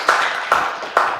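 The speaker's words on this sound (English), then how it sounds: "please give this gentleman a big round of applause" Applause at a conference talk comes through as three sharp, evenly spaced claps, close and fairly loud, about half a second apart.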